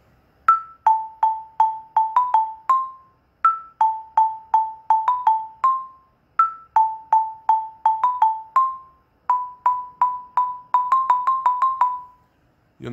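A Halloween melody played on an Orff xylophone: clear, bright wooden bar strikes in repeated short phrases of quick, evenly spaced notes, each phrase ending on a held tone, played alone and close with no talking.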